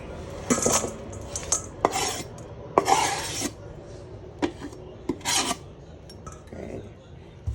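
Grilled pork pieces for Thai waterfall pork salad being tipped into a basin, with a series of sharp clattering, scraping bursts of meat and utensils against the metal bowl, loud and close with short pauses between.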